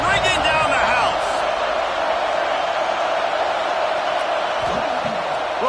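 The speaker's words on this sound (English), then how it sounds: "Third down, and this crowd is bringing down the house." Stadium crowd roaring on a third down in an NCAA college football video game, Georgia Tech versus Texas A&M, a loud, sustained wall of cheering with a commentator talking over it throughout.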